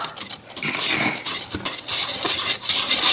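Dry pizza batter ingredients, yeast, salt, garlic powder and thyme, mixed in a bowl, giving scraping, clinking strokes of a utensil against the bowl in short bursts, close and fairly loud, with no voice.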